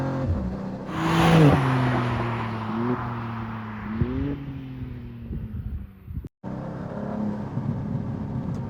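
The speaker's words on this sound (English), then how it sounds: "Pops and bangs are going off all the time." A 2024 BMW M2 G87 fitted with M Performance Parts revs hard under full throttle, engine note rising then easing, with crackling exhaust pops and bangs, a brief cut near the end before the engine drones on up close.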